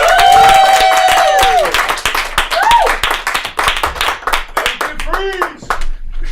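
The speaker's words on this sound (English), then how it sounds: "Give a round of applause for Phil Burns." An audience at a live comedy show claps for a comedian, with sharp, dense clapping under cheering voices and a few whoops, tapering off as the applause fades.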